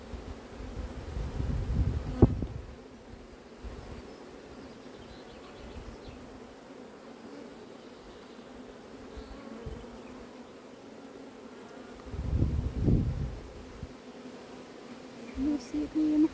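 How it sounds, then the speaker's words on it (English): Dense swarm of honeybees buzzing steadily at an open hive during a beekeeping inspection of a slow-building fifth colony, a continuous low hum that swells louder at moments, with brief speech over it. "Wow, there is a lot of bees."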